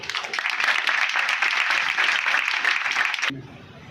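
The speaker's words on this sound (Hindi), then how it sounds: "तालियां बजाएं बच्ची के लिए।" Church congregation applauding a girl, a steady patter of many hands clapping for about three seconds before cutting off abruptly into quiet room tone.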